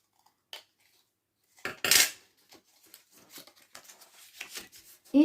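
Paper scraps being cut with scissors for a handmade mini album, close crisp snips and rustling handling of paper in short irregular bursts, with a louder cluster of cuts early on.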